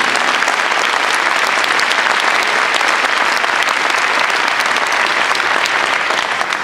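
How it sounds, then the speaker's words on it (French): Sustained, dense applause from an audience, loud and steady throughout with no break or voices on top. "Je voudrais qu'on les applaudisse bien fort. Et je vous applaudis moi aussi."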